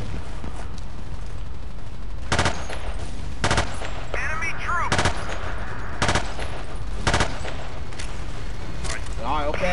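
Gunfire in the Battlefield 2 video game during a 16 vs 16 match: sharp individual shots and short bursts crack out at irregular intervals over steady ambient battle noise, with a few brief swishing effects in between.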